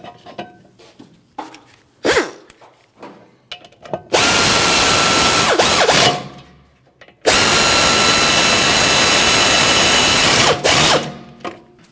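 Power drill driving in the brake caliper bolts on a 2022-2025 Lexus NX350 rear brake job, two long loud whirring bursts after a few scattered clicks and clanks of handling parts, close up.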